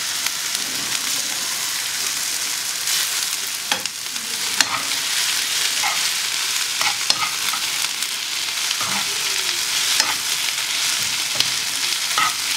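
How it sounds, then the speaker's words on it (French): Onions sauté for an onion quiche with a steady, close crackling sizzle that fills the whole stretch, broken by occasional sharp clicks and scrapes from stirring; no one speaks. "Les oignons, pour faire une quiche à l'oignon, bien faire revenir sans brûler."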